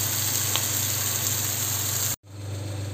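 Prawns frying in oil with curry leaves, ginger-garlic paste and pepper powder give a steady, loud broadband sizzle that cuts off abruptly near the end, then resumes faintly.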